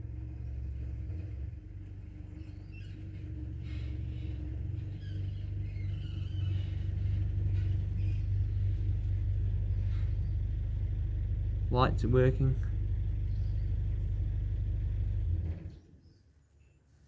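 A car with a loud, truck-like engine rumbles steadily while being backed in, sounding close and low for about fifteen seconds before cutting off, with a brief spoken voice near the end.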